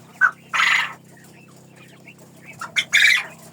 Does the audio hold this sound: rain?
no